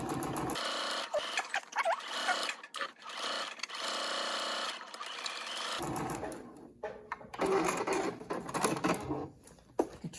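Sewing machine topstitching around the inside perimeter of a fabric face mask, running in steady mechanical bursts with short pauses between runs, close and fairly loud, no talking.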